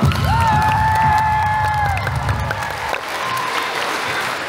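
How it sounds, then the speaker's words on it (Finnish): A crowd applauds and cheers loudly, with a high whistle and shouts over sustained clapping that gradually thins out. "annetaan vielä kerran aplodit"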